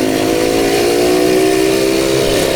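Suzuki Satria two-stroke motorcycle engine revving in city traffic, a steady high-pitched buzzing drone held at mid-to-high RPM with strong vibration, loud and close throughout.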